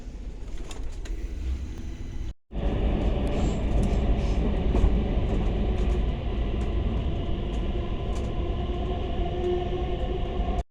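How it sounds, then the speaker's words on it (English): A Stockholm metro train rumbles steadily with a broad, continuous roar and rattle, briefly cutting out near the start before resuming loud and unbroken. "So guys, I will now show you the train."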